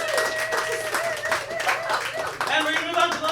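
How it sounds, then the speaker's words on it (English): Audience applauding contestants at the end of a pop quiz segment on a comedy show, a dense continuous patter of clapping that holds steady for the whole stretch. "Let's have a round of applause for our contestants."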